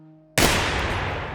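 A single loud gunshot in the video game Receiver 2 cracks after a moment of quiet hum, followed by a long, booming echo that slowly fades.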